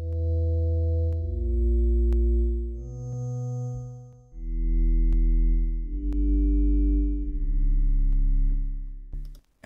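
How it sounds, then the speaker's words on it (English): A sustained synth pad from a Serum soundbank preset: layered tonal chords with a deep low end, swelling and shifting through two long phrases that fade to near silence midway and at the end, no voices. "This is another pad sound. I think it sounds pretty cool."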